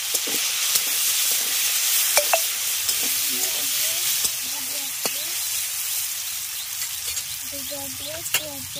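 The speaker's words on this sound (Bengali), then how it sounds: "হলুদ আর লবণ দিয়ে আলুটাকে প্রথমে একটু লাল করে ভেজে নেব।" Potatoes frying in a pan with turmeric and salt make a continuous soft sizzle, with occasional sharp taps and scrapes of a stirring utensil, close and moderate in level, no speech.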